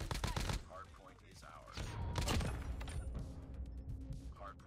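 Bursts of rapid automatic gunfire from a LAPA submachine gun in a first-person shooter game, loud clustered volleys at the start and middle with softer game sounds between.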